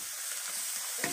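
Spices and goat meat stirred in a hot pan for an Assamese dish with black lentils, giving a close, steady frying hiss that ends in a brief scrape of the spoon.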